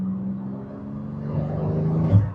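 Porsche 911 GT2 RS of the 991 generation, its turbocharged engine pulling from about 2000 rpm as the throttle opens, a steady droning growl that rises in pitch and swells louder toward the end, heard from inside the car with no talk.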